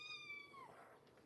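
A small cat gives a single soft, drawn-out meow that tails off, faint and close, with no one speaking.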